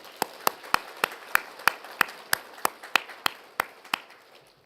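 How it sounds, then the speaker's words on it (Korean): Church congregation at a Sunday worship service claps loudly in unison, sharp rhythmic claps roughly three per second, crisp and close, with a faint murmur of room noise beneath. "오늘은 박수를 조금 더 하나님 앞에 영광의 박수를 세게 쳐야 돼요."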